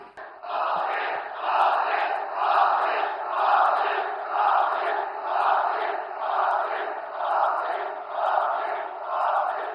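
A large crowd at a rally welcoming the Prime Minister in Jharsuguda roars and cheers in rising and falling waves, loud and continuous, with rhythmic chanting swells and little distinct clapping.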